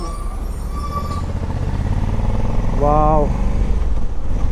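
A 2020 Honda Africa Twin 1100 with a manual gearbox rides along with a steady engine rumble and heavy wind rush, while a rider's voice briefly exclaims mid-ride.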